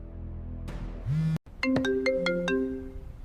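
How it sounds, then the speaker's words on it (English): A phone ringtone plays loud and close: a rising electronic sweep, a brief cut, then a quick bright run of tones, with no talking. "Then my phone rang"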